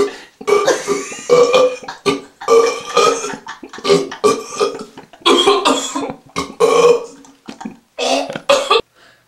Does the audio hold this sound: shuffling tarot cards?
no